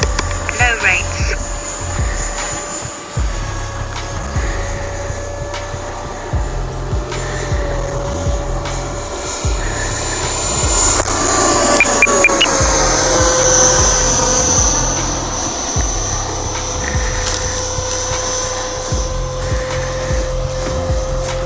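An English Electric Lightning model jet flies nearby with a steady whining roar that swells and changes pitch as it passes, over a constant background drone.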